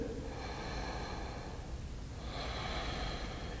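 A steady, controlled breath during a beginner yoga pose, one long airy exhale that fades and then a fresh inhale, close and fairly quiet against a soft hiss.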